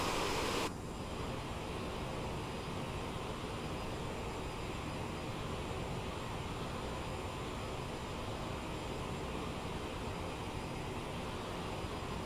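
Steady jet engine drone and rushing wind noise from an Aerosoft CRJ-700 Lufthansa airliner in Microsoft Flight Simulator, a constant broad roar with faint high tonal whines and no pauses.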